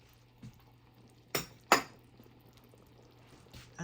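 A metal lid is set onto a cooking pot of simmering beef soup, giving two sharp close clanks a moment apart, followed by faint soft knocks in a quiet kitchen.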